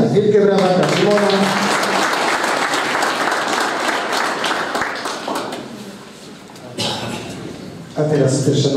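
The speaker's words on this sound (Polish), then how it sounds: "Wielkie brawa dla Szymona." Applause for a bronze-medal weightlifter at a municipal sports awards gala, steady clapping from the audience that fades toward the end, with an announcer's voice before and after.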